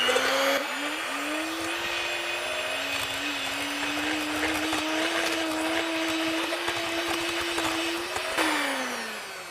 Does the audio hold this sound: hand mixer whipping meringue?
yes